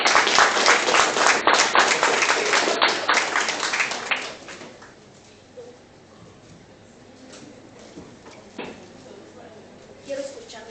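Audience applause at a university forum, a dense burst of clapping for about four seconds that fades to scattered claps and room noise.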